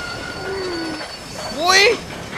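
A train in the Red Dead Redemption video game rolls past with a rising squeal of wheels and a brief loud surge, heard under a steady game backdrop.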